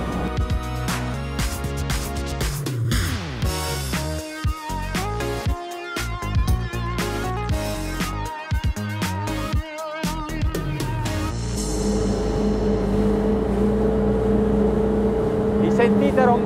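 Twin engines of a Ranieri Cayman 45.0 Cruiser maxi RIB roar at full throttle, a loud continuous drone that climbs in pitch with passing surges, while someone talks over it.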